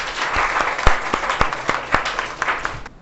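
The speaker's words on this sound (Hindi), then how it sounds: "हाँ, ताली बजा दो यार।" Clapping from a group of students during a classroom physics quiz, a loud dense burst of many hands with a few sharp individual claps standing out, sustained throughout.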